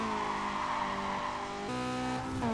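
A car in the Need for Speed Carbon racing game slides under full handbrake and full lock, with a continuous droning engine and tire squeal whose pitch steps down near the end, loud and steady throughout.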